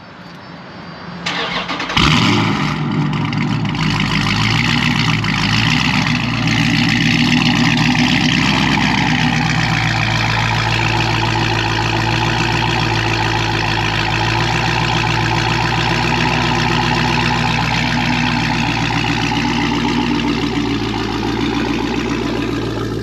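A Dodge Challenger Scat Pack V8 cranks and fires with a roar, then settles into a loud, deep, lumpy idle that rumbles steadily for the rest of the clip.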